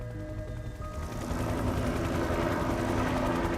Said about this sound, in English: Today the helicopter went in with some from our team